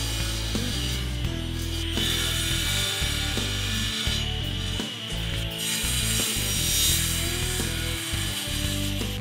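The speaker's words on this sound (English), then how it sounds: "I can also cut the front legs, the armrests, and the stretchers to length now too." Wooden parts for an Asian-inspired bench, including front legs, armrests and stretchers, being cut to length with a saw, giving a steady, loud, continuous mechanical whine and grind up close with no speech.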